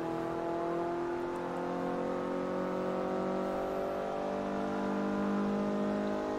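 A steady, sustained engine drone with layered harmonic tones, like a Toyota Yaris S held at high revs in the racing game Forza Motorsport 3, with no speech.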